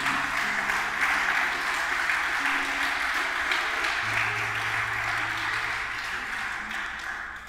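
Sustained applause from a church congregation, steady broadband clapping filling the room at even volume and tapering slightly toward the end.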